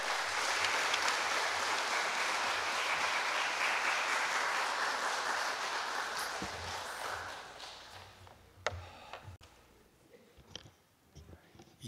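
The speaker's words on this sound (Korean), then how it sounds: "우리 큰 환영의 박수 한번 쳐드릴까요?" A church congregation claps loudly and steadily to welcome a pastor to the pulpit during a Sunday worship service. The dense applause lasts several seconds, then thins into scattered claps and small noises in a reverberant hall.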